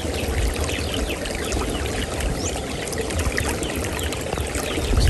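Steady rushing and splashing of water pouring in, continuous and close, with no voices.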